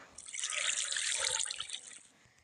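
A splash as a player dives into sea water in the Minecraft video game, a brief bubbly watery burst that swells and fades over about two seconds.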